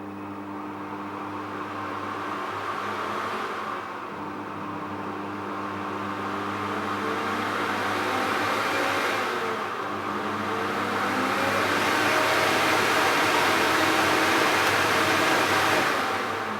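A fan driven by an RTVS1 five-step speed controller spins up in stages about five seconds apart, a steady broadband whoosh that grows louder and rises in pitch with each step, with no voices.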